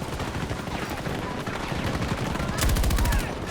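Gunfire in the video game Battlefield 2042: dense, continuous shooting fills the scene, with a tight burst of rapid automatic fire standing out loud and close near the end.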